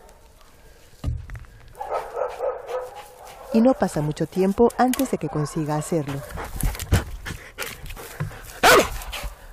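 A Guardia Civil police dog barks and yips in short bursts, close by, under continuous talking from a man.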